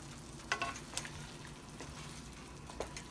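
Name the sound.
stirring chicken adobo with soy sauce and bay leaves in a pot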